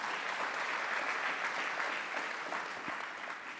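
A business conference audience applauding, a dense sustained wash of clapping from a large crowd that holds steady before easing slightly near the end.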